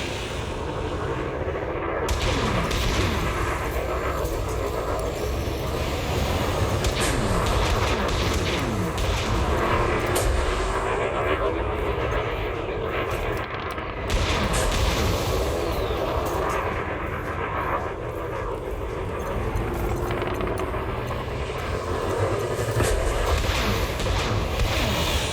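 Spaceships roaring through a busy scene in the video game Elite Dangerous Odyssey, a continuous dense wash of engine rumble and muffled weapon booms at steady loudness throughout.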